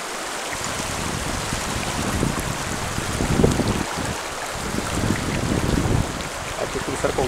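A shallow river with a strong current running over slippery stones: a continuous rushing, gurgling flow with swelling surges and close splashes, with no talk.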